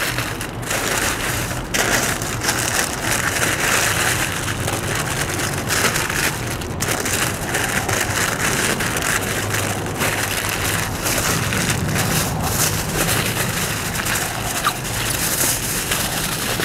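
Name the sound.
wrapping the beef ribs tightly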